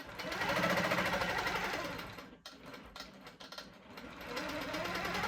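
A sewing machine stitches around a bat shape on a quilt block, running steadily with a fast whirring rhythm, briefly pausing midway before speeding up again; no voices.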